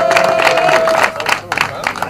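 Crowd clapping and cheering as results are announced at a pairs championship, a dense, loud burst of applause mixed with voices throughout the short stretch.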